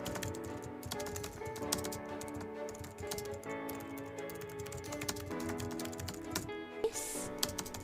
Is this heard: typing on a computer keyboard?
yes